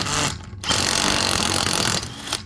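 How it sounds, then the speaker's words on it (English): An impact wrench works a locking lug bolt on a VW Jetta wheel, giving loud, continuous rattling hammer bursts with a brief pause between runs. "I'm going to use the impact in a second to try this. Using the impact, up and down."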